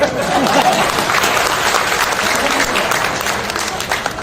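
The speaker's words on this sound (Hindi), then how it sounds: "देखो आप ताली बजा रहे हैं" An audience at a finance seminar bursts into loud, dense clapping that starts strongly and continues steadily, gradually easing toward the end.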